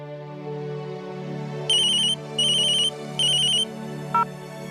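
A phone rings with three short repeated bursts of electronic tone over a steady background hum, followed by a brief click, close and clear.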